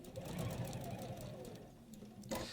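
A sewing machine runs steadily as it stitches across fabric, a continuous close mechanical whir holding an even level for the whole stretch, with a brief bump in loudness near the end.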